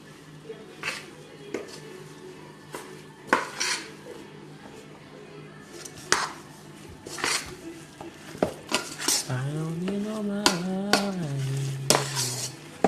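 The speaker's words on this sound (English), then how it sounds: "So what I'm going to do is I'm going to mix this in." Allspice being stirred into a sweet potato pudding batter, with a utensil scraping and clinking against the bowl in repeated close strokes, alongside other kitchen clatter while someone talks.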